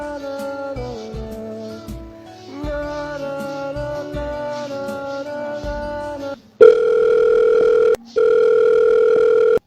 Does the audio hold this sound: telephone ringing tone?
yes